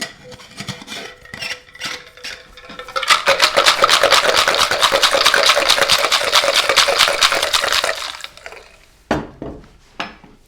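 Ice and mint rattle hard inside a cocktail shaker in a fast, steady rhythm for about five seconds, preceded by scattered clinks and followed by a few sharp knocks, with no voices.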